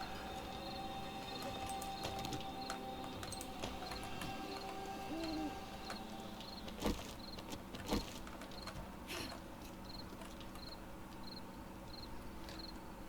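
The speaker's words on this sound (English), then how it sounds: "Stupid bird flying around." A bird in the game 7 Days to Die repeats a soft, evenly spaced hooting call at a steady rhythm over a low outdoor ambience, with a few sharp thuds partway through.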